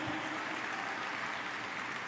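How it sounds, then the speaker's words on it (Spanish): Church congregation clapping during a Spanish-language sermon on divine healing, a soft, continuous roomy wash of many hands heard from a distance, steady and unbroken. "Dale ese aplauso a Jesucristo."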